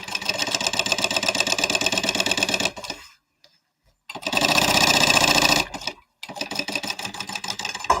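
Sewing machine basting fabric, a loud rapid steady chatter close up in three runs separated by short pauses, with no talking.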